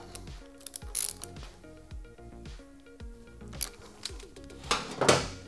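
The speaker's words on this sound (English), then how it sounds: "Using a 22mm socket, I will turn this tight." A 22mm socket ratchet tightens a crash protection bolt on a Kawasaki ZX6R, giving quiet clicking ratchet strokes in short bursts with occasional metallic clinks, close and faint.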